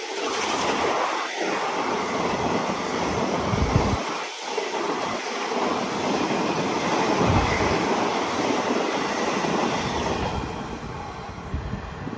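The Mangalore–Coimbatore Intercity Express rumbles past Chandera railway station in Kerala with a steady, loud roar and rattling wheels that continue throughout, fading slightly toward the end.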